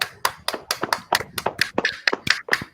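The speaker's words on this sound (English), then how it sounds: "let's clap our hands for frontliners" About a dozen sharp, evenly spaced hand claps from a panel discussion audience ring out in a quick steady rhythm, close and clear.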